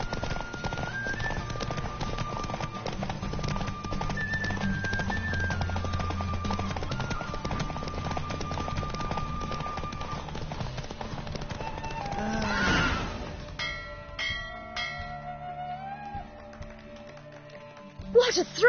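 Horse hooves clip-clop steadily through a horse race in The Witcher video game, running under game music and a speaking voice, then the rhythm breaks off near the end.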